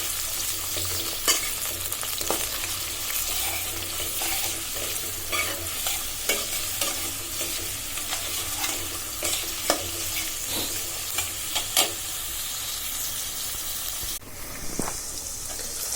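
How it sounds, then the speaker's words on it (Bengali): Onion, garlic and green chili sizzling in oil in a cooking pot while being stirred, a steady fry hiss broken by repeated spoon scrapes and taps against the pot, with no voices. "আমার পেঁয়াজ, রসুন, কাঁচামরিচ তেলে ভাজা হয়ে গেল।"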